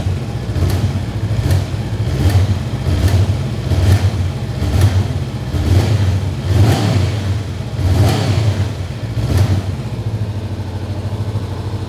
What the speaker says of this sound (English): let's start it a bit more so you can hear this engine, this twin cylinder engine, Euro 4 compliant